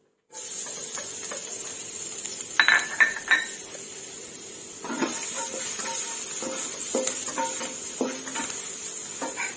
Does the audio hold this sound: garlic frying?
yes